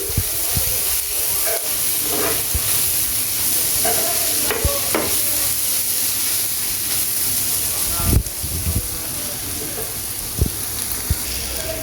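Minced chicken stir-fries in a pan for noodles, loud ongoing sizzling with repeated utensil scrapes and clanks, including a sharp knock near the end.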